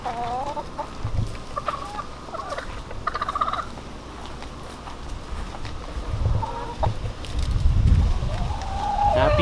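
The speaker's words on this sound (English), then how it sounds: "Happy chickens" Chickens in a newly built backyard run cluck and squawk close by, with scattered calls and rustling over several seconds.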